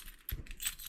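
A brief metallic jingle of keys being handled, one short clatter followed by a few lighter chinks, close and fairly quiet.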